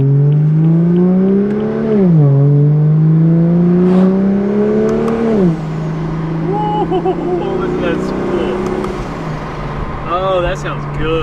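Single-turbo BMW F82 M4 engine revving hard in repeated rising and falling sweeps, loud and close, with people talking over it.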